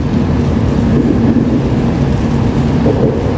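Steady rain falling by the seaside in misty, wet weather, a continuous broadband wash of drops with a low rumbling undertone, loud and unbroken throughout with no voices.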